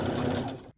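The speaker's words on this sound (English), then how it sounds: "I'm gonna do just a really loose basting stitch along the top and then pull it" A sewing machine runs a loose basting stitch along the top edge of fabric for a dress. Its close, steady mechanical whir lasts under a second and then stops abruptly into silence.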